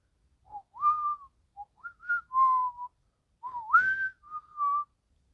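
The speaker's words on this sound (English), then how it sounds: "Now, Deku hears the tune. The tune he heard whistled in Arkham as the footsteps echo." A whistled tune played back from a recorded message, a series of clear melodic phrases in short bursts with pauses between, moderately loud and alone with no talk.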